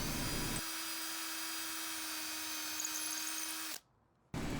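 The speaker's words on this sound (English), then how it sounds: "I just drilled a hole straight through" A power drill bores a hole straight through wood with scrap underneath, running as one steady loud whine for about three seconds before cutting off abruptly.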